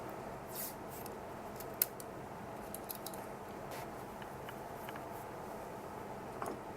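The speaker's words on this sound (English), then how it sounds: "I'm gonna secure them with a bit of tape" Quiet snips and faint crackles as strips of tape are pulled and cut to hold wires in place on a cheap DCF77 radio clock, with a few sharp clicks over a low, steady background.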